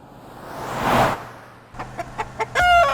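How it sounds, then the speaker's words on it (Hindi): A rooster and a flock of hens cluck nearby, with a rising rush of sound giving way to a run of short separate clucks and then a drawn-out, strained call at the end. "अरे मुर्गे बॉस, तू अकेला इन सब के बीच इतनी सारी मुर्गियों को कैसे संभालता है?"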